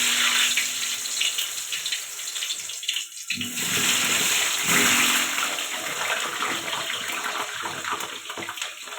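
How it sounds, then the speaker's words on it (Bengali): Potato pieces frying in hot oil in a kadai wok, producing a loud, continuous sizzling hiss that dips briefly partway through and then carries on steadily, with no talking. "কড়া বসিয়ে দিয়েছি, তেলও গরম হয়ে গেছে। আলুগুলো ভেজে নেব"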